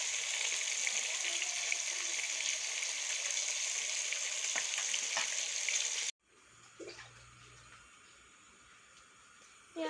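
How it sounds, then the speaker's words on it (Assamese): Fish frying in a pan in a home kitchen, a steady close sizzle for several seconds that cuts off abruptly to a quieter background with faint clatter. "আৰু মায়ে এয়া মাছ ভাজি আছে।"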